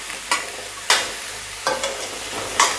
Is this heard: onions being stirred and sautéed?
yes